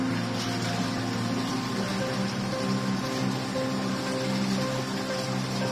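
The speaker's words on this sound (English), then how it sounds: "Start the hydro massage." Hydro massage jets running in a Kobia baby spa bathtub with water flowing, giving a steady, even churning and bubbling wash with low motor hum throughout, no voices.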